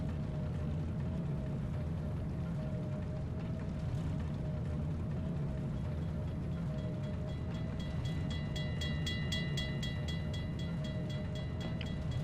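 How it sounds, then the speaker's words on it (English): A train in a Garry's Mod map rumbles steadily and low throughout, a continuous rolling drone with faint rhythmic clatter building near the end. "I stopped the train in GTA."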